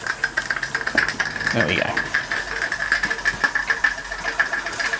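A scratch-built steam engine runs with a rapid, steady chuffing beat and a hissing whine, close and clear, while someone briefly speaks over it.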